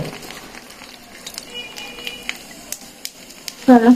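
Fuchka puris fry without fire, giving soft scattered crackles and pops at close range, and a voice breaks in at the very end.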